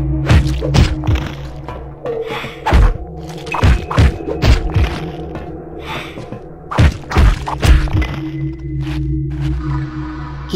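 Heavy thudding impacts of claws striking an enemy in the video game Legacy of Kain: Blood Omen 2, a series of irregular strikes in combat training over a low droning background.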